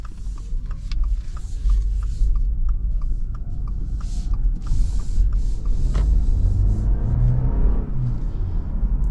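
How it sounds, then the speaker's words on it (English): From inside the cabin, a 2026 Honda CR-V Hybrid or Subaru Forester Hybrid SUV speeds up with a constant low engine and road rumble, a rising drone and faint creaks, loud and continuous. "Obviously, it's not like the best acceleration on the planet, but you can feel the power to an extent"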